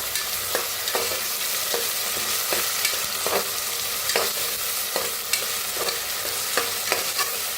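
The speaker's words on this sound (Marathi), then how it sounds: "आता लसूण अद्रक बारीक करून घेतलेली हिरवी मिरची वाटण टाकूया ह्याच्यात छान असं भाजून घेऊया" Garlic, ginger and green chilli paste fries loudly in a pan for a spiced rice dish, a steady close sizzle broken by regular sharp clicks of a spoon stirring against the pan, with no voices.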